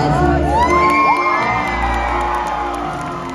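Audience at a SeaWorld Orlando orca show cheering and whooping, with children's shouts mixed into a loud, steady crowd roar that slowly fades across the clip.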